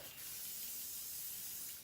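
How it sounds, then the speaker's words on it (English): A steady hiss of Sebastian Shaper Plus hairspray sprayed continuously onto the back of the hair for about two seconds, close and soft. "And now I'm going to use my Sebastian Shaper Plus spray. Spray the back."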